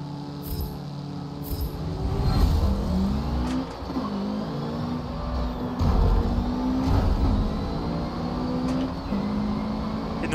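Mitsubishi Eclipse race car in Forza Motorsport 7, the engine droning steadily and loud through a race with shifting pitch sweeps as it revs up and changes gear, other cars rumbling close alongside.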